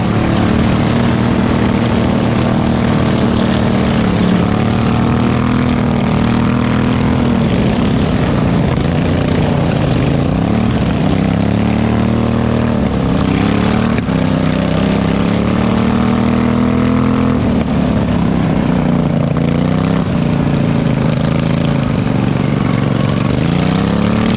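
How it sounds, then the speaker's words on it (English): Several racing lawn mower engines drone loudly and continuously during a chaotic 20-lap race at the Greenup County Fair, their pitches rising and falling as the mowers circle the track, with no voices over the engine noise. "There were mowers all over the track, breakdowns and wrecks and all kinds of issues they were running into"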